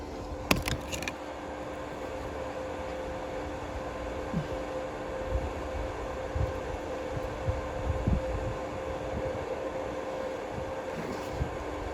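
A Titanium Flux Core 125 110-volt welder runs at full power, giving a steady, close crackling hiss over a low electrical hum that carries on without a break for about twelve seconds, with no talking.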